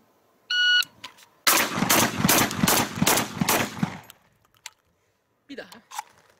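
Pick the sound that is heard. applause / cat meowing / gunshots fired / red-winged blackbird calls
gunshots fired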